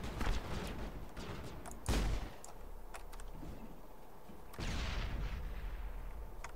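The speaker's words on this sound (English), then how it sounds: "I'm being shot at!" Gunfire in the Mass Effect video game: scattered shots and heavier blasts crack out across a busy combat mix, with a loud burst near the start and another midway, no voices over it.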